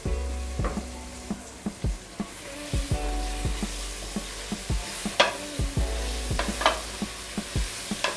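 Chopped spinach sautéed with masala in a pan sizzles softly while a utensil stirs it in repeated close scraping strokes, with no talking.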